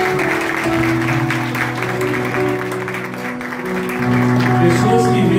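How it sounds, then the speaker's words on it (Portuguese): Audience applause at a church testimony gathering in Paraíba, a steady wash of clapping that runs for about five seconds over a sustained tonal hum or music bed. "Palmas para si."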